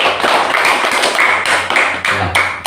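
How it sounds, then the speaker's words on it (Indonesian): A classroom of students clapping for a classmate named Fadil, a steady burst of many hands close by, loud and continuous with no talk over it. "tepuk tangan dulu untuk Fadil"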